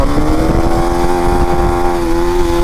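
A KTM Duke 390 Gen 3 motorcycle pulls away in first gear in rain mode, its engine droning loud and close with a steady tone that rises gently as it accelerates, no voices over it.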